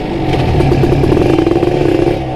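A Kawasaki Ninja motorcycle, restarted after more than a month unused, runs loud and close with a rough idle and a burst of quick throttle revs in the middle, recorded outdoors near a home.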